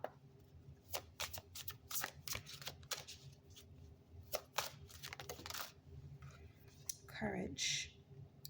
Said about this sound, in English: Let's pull another oracle card for you